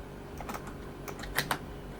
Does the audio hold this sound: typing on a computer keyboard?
yes